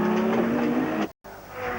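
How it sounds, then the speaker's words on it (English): Touring car engine from onboard footage during a 1992 Australian Touring Car Championship round at Symmons Plains, droning steadily at moderate revs, loud and close, with a brief dropout before the engine note resumes. "Motor really doesn't seem to be doing a lot of revving."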